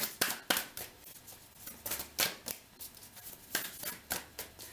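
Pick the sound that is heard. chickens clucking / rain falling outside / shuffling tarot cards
shuffling tarot cards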